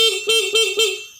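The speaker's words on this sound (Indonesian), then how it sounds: "kita tekan saja di tombol klakson" A car horn is pressed to check the battery on a vehicle with a dead starter, giving a loud, steady tone broken into about four short honks in quick succession, close up with no talk.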